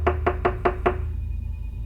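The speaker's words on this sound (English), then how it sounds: "there's a knocking at my door" Five firm, evenly spaced knocks on a door ring out close and loud, followed by a steady hum.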